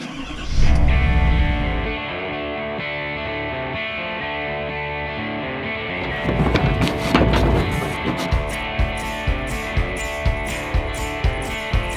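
A truck engine cranks and fires up for the first time in a season, with a loud start and then a rough, uneven running sound marked by repeated knocks and clatter.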